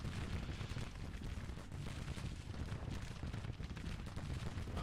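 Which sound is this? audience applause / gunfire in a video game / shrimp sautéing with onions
gunfire in a video game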